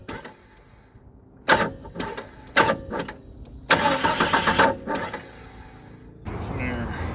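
A Jeep engine cranks in several separate bursts after a fuel pressure problem, catches with a rough, loud run, then settles into a steady idle close by. Voices can be heard over it.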